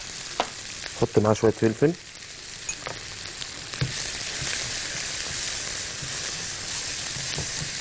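Grated onion frying in ghee sizzles as a low, steady hiss through most of the stretch, with a few scraping stirs and someone speaking briefly near the start over the pan.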